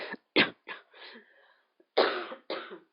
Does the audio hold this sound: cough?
yes